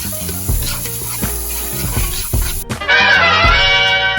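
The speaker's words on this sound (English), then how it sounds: "You don't want to saute these up too much, just a little bit." Collard greens sautéing in a pan give a steady sizzle under soft stirring and scraping taps, growing into a louder, brighter hiss near the end as liquid hits the hot pan.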